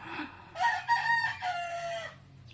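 A chicken sounds off on the roof of an old outdoor cooking shed behind a house, giving a few loud, close clucks and a crow-like call across about two seconds, then going quiet.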